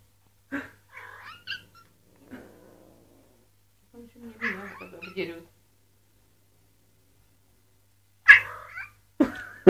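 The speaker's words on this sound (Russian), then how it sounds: "подумаешь, что кот спевает" A cat meows in several separate calls spread across a quiet room, some drawn out and warbling, others short and sharp, with silent gaps between them.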